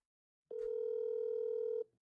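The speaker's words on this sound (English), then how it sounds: "I hear the ringtone so clearly" A single steady electronic tone sounds for over a second, clean and loud, then cuts off, like a phone line ringing once.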